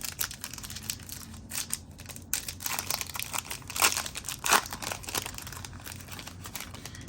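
Crinkling and tearing of foil wrapping as a Topps 2021 Lights Out Formula 1 trading card pack is opened, close and fairly quiet, with bursts of rustle and a couple of sharper crackles.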